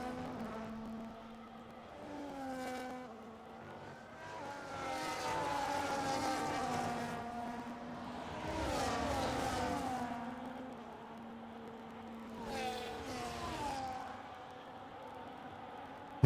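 F1 cars in a racing video game at the Australia GP: high, whining engine tones rise and fall as cars accelerate and pass in several waves at a moderate distance.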